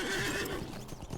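In The Shire in the video game LOTRO, a horse gives a short, clear neigh up close, followed by a few soft hoof clops as it settles, with no talk.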